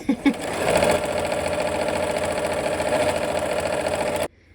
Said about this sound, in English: So I like to sew with the larger unit on the bottom, and it eases the fabric in.